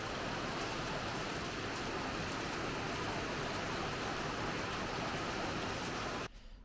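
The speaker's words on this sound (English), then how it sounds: "It's a little rainy here at the shop today." Steady rain falling outside a woodworking shop, a dense even hiss of drops that cuts off abruptly near the end, with no voices.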